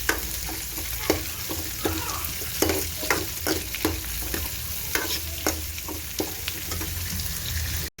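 Green chillies sautéing with onion in a hot pan for egg curry, a steady oily sizzle broken by repeated scraping taps of a spoon stirring, close and continuous with no talking.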